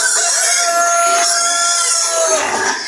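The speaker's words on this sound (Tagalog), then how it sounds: "ayan mga pinapakain ni Jovel sa ating mga native ngayon, starter na hinaluan ng yun nga, yung sapan ng taho" Native chickens cluck and call close by while being fed a starter feed mixed with taho residue, busy overlapping bird voices filling the farmyard with no talk over them.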